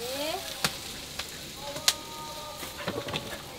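Jackfruit and potato sizzle quietly in a hot pan, a soft steady frying hiss broken by a few sharp scraping and stirring clacks.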